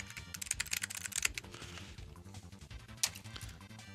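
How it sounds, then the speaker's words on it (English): Rapid, steady typing on an old clicky mechanical keyboard with Cherry Blue switches, close and crisp, a dense run of keystrokes with a louder clack near the end and no voices. "DOS keyboard, which uses, I think this is Cherry Blue. Some really old clicky keyboard."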